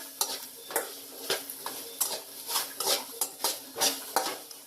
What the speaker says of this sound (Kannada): ಈಗ ಇದನ್ನು ಚೆನ್ನಾಗಿ ಫ್ರೈ ಮಾಡ್ಕೊಳ್ಳೋಣ ಬೆಂಡೆಕಾಯಿನ